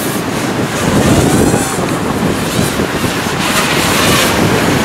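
Strong wind of about 20 mph blows across the microphone during a racing drone flight, producing a loud, continuous, rushing roar with no talking.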